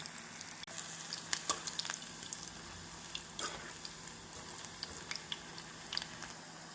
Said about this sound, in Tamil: நாம் அனைத்து காலிஃப்ளவரையும் இப்படி பொறித்து எடுத்து விடலாம்